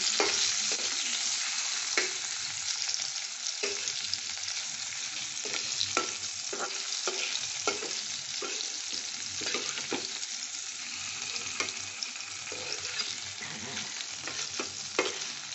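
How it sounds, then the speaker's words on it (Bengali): Large potato chunks sizzle steadily in hot oil with tempering spices in a pan, with repeated scraping stirs at an irregular rhythm. The sound is close and continuous, with no talking. "এগুলো একটু ভাজা ভাজা হবে"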